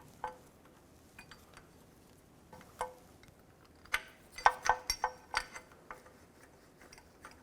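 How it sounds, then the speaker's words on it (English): Bolts being started by hand through an engine mount into the oil pan of a 2011–2014 Chrysler 200, a sparse series of faint metallic ticks and clicks, some in quick clusters, against a quiet workshop background. "Slide that in position, get the bolts started"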